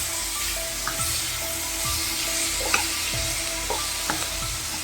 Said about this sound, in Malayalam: അപ്പോൾ നന്നായിട്ട് വരട്ടിയിട്ട് തന്നെ ഡ്രൈ ആയിട്ട് എടുക്കണം.